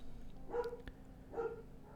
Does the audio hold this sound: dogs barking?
yes